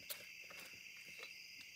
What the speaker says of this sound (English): I guess those crickets are pretty loud out there.